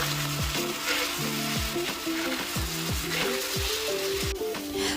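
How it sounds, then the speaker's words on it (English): King oyster mushrooms and meat are stir-fried in sauce in a pan. A continuous close sizzle is broken by regular spatula strokes, with a melodic background tune underneath. "After sauce is in the pan, we stir fry for about a few minutes."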